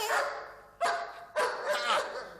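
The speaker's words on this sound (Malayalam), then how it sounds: "ഈ നായ്ക്കളുടെ ശല്യമാണല്ലോ" A dog barks three times, loud and close, with short pauses between the barks.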